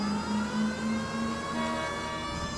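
A police siren in the video game L.A. Noire holds a wavering tone throughout under steady city traffic rumble, with no talking.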